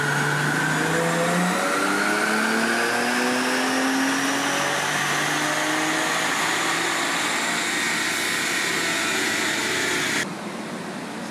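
A Nissan Z engine revs on a dyno during a baseline pull, a loud, continuous rising drone with climbing harmonics that holds strong for about ten seconds before dropping off sharply near the end.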